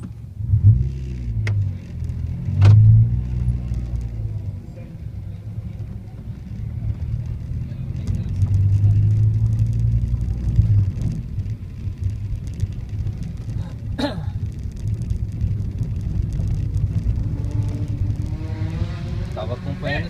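A Peugeot 307 lapping a race track at a track day, heard as distant engine rumble that swells and fades as it passes, under casual conversation between people nearby.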